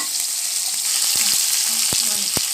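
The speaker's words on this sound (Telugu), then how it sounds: "అల్లం వెల్లుల్లి పేస్ట్ 2 స్పూన్లు లైట్గా పచ్చి వాసన పోయేంత వరకు కొంచెం వేగనిచ్చి" Ginger garlic paste frying in a pan, a continuous bright sizzle with a few sharp spoon taps against the pan near the end.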